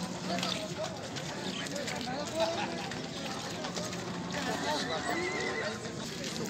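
A horse foal neighing at a livestock horse market in Kyrgyzstan, a whinny rising above the busy market din while people talk nearby.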